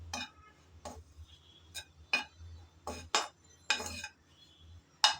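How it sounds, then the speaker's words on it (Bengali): Grated coconut frying in a little ghee is stirred with a utensil, giving a series of sharp, separate scrapes and clinks against the pan over a faint low hum. "সেই নারকেল সামান্য ঘিয়ের মধ্যে নেড়ে চেড়ে হালকা করে ভেজে নেব।"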